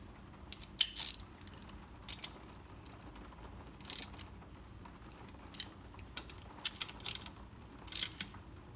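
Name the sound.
wrench snugging down bolts on a Sea-Doo jet pump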